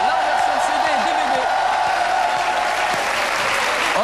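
A television studio audience applauds on a French talk show, loud continuous clapping with scattered whoops and cheers throughout the four seconds.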